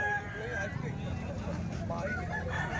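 A young rooster (stag) crows, partly masked by nearby people talking and a murmur of background chatter.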